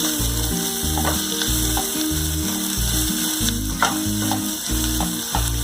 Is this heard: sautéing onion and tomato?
yes